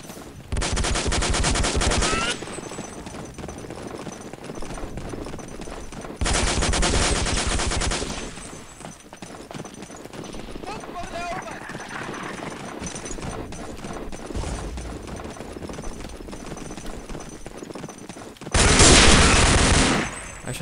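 Three loud bursts of automatic gunfire in the World War II shooter Day of Defeat, near and dense, separated by stretches of quieter game ambience with faint distant shots.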